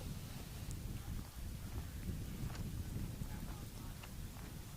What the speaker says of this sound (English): Wind blowing hard.